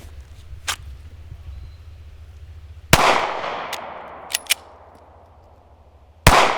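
Handgun shots fired during a tap-rack-bang malfunction drill on a concealed carry range: two loud sharp reports a few seconds apart with echoing decay, plus a few small clicks and taps between them.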